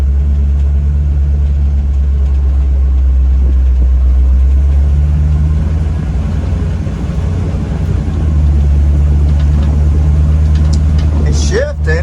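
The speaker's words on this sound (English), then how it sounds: "It seems to be shifting in all the gears, but it's just kind of a slow shift" A 1950 GMC truck on an S10 frame driving slowly around a church parking lot, with a loud, steady low engine rumble close by and a subtle pitch change as the transmission makes a slow shift.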